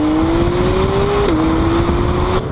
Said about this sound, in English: It takes that intake noise and actuates how much sound is passing through and then pipes it into the firewall right behind your